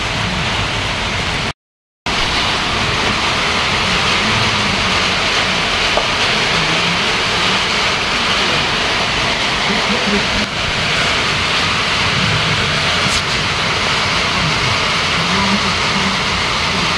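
Rain falls steadily in Palawan, a constant even hiss that carries on unbroken apart from one brief dropout near the start.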